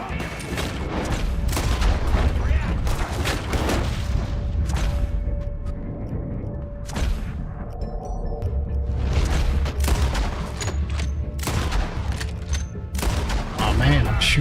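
Repeated gunfire in a shootout in Red Dead Redemption 2, with bursts of shots and heavy booms spread across the whole stretch, loud and close, while a player talks over the action.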